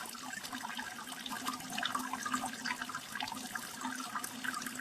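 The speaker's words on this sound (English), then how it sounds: "you can hear this water running." Water runs steadily for several seconds, a continuous gushing, splashing flow heard fairly close and at moderate volume, with no voices over it.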